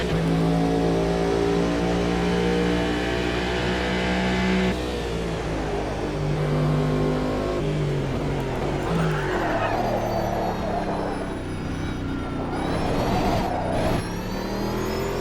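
A race car engine revs hard and continuously in the Automobilista racing video game, with pitch sweeping up and shifting down through gears, loud and sustained throughout.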